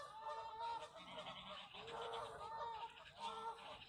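A dense chorus of geese honking continuously across a Sutton Coldfield park lake, many calls overlapping into a steady, distant-sounding cacophony without a break.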